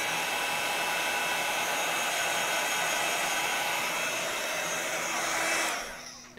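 A heat tool runs steadily as it dries paint on a small mixed-media art card. It makes a loud, constant blowing whir that holds for several seconds, then cuts off near the end.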